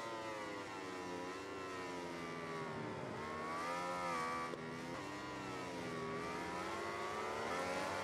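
Racing motorcycle engine in the SBK 2020 video game at Aragon, a loud continuous whine rising and falling through gear changes, droning steadily throughout with no talk.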